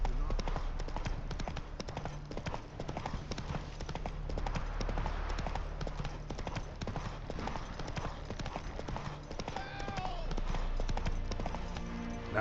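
Roach, a horse in The Witcher video game, trots along with rapid, even clip-clop hoofbeats that carry on throughout over a game soundtrack and ambient noise, with a faint whinny-like sound near the end.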